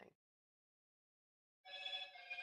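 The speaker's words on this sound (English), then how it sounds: "And that's my husband's phone, by the way. It's very loud." A mobile phone rings loudly after a brief moment of silence, its electronic tone steady, close and clear, with no talk over it.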